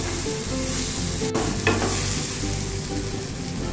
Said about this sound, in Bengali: লাল করে একটু ভেজে নিচ্ছি, তারপরে দেখাচ্ছি।